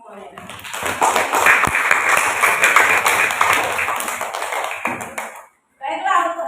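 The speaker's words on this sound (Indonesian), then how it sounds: "Tapi overall semua yang bagus kita kasih tepuk tangan untuk semuanya." A classroom of students claps together in a dense, sustained burst of applause lasting several seconds, close and loud, fading out before a short pause and some talk.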